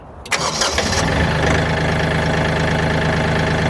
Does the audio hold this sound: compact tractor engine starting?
yes